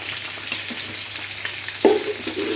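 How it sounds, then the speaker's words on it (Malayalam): Rice boils in a pot for chicken mandi, making a steady bubbling hiss throughout, with a brief clatter near the end. "ചോറ് തിളച്ച്"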